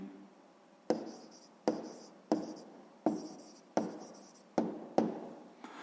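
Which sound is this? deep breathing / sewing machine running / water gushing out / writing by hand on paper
writing by hand on paper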